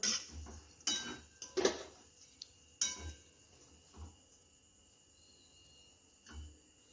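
Roasted coconut for a garlic coconut chutney is moved onto a plate, giving several sharp clinks and scrapes of a utensil against metal in a quiet kitchen.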